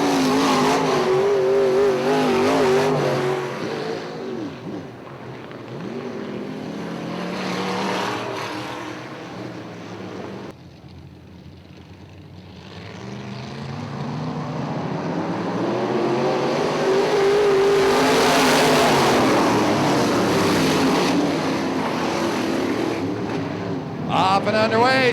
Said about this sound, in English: Off and underway, side by side for the lead as they head off turn 2.